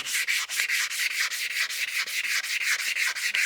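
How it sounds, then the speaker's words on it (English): Hand sandpaper rubs back and forth across a resin hybrid pizza cutter blank held on a stopped lathe, a steady rhythmic rasp of about a dozen quick, even strokes, fairly close and alone. "One thing I do want to do while the lathe is stopped is just sand"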